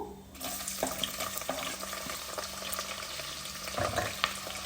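Whole garam masala spices and bay leaf fry in ghee in a pressure cooker for vegetable biryani, making a continuous close sizzle with a low steady hum and a few clinks from stirring. No one speaks.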